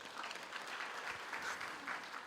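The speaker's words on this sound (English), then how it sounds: "Can you give the planning team a round of applause?" Graduation ceremony audience at a university gives a round of applause, a faint, distant wash of many hands clapping steadily.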